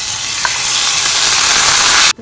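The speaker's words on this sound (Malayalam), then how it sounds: "കഴുകി ഊറ്റി വെച്ച അരിയാണ് അതിട്ട് കൊടുക്കുക" Washed, drained rice sizzles loudly in hot ghee in a pan for egg biryani, a strong, continuous frying hiss up close that cuts off abruptly at the end.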